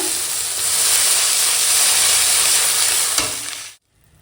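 Spice masala with melted tomato sizzles and fries loudly in a pan, a steady broadband hiss lasting several seconds with a faint scrape near the end before it cuts off abruptly.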